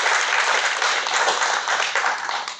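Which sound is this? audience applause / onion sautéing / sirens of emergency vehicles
audience applause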